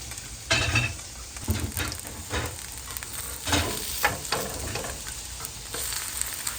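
Potato pancakes frying in oil, a continuous crackling sizzle broken by repeated louder pops and scraping bursts as they are moved in the pan.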